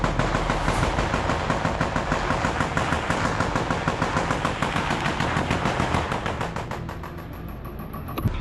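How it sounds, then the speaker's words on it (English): Ukrainian soldiers return fire in combat, with loud, close machine-gun bursts hammering in a fast, steady rhythm for several seconds before easing slightly near the end. "Ukrainians return fire."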